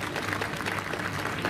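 Audience at a devotional kirtan gathering clapping for the sound and pandal crew, a continuous muffled patter of applause, moderately quiet and even.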